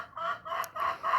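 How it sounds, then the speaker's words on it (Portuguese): Chickens clucking in short repeated bursts with a rooster crowing among them, close and fairly loud, heard alone with no talking. "ao som das galinhas"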